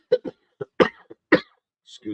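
A person coughs several times in short, harsh bursts, close to the microphone, with brief pauses between.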